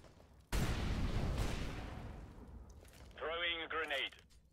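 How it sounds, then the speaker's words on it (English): An incendiary grenade in CS:GO bursts with a loud, sudden whoosh and crackle that fades over a couple of seconds, followed by a short spoken voice line. "Incendiary."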